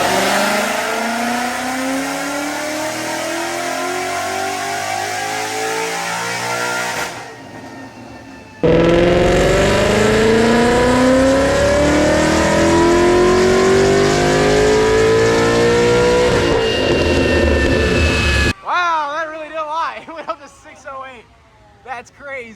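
Supercharged Ford Mustang VMP S197 pulling hard on a dyno, loud engine revving up through the gears in two long sweeping runs, then dropping off as people talk.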